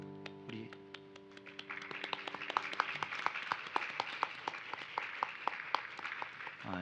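A church congregation at a Sunday service applauds bereaved families in encouragement, sparse clapping that starts after a lingering organ-like tone and grows into a moderate, fairly distinct round of hands.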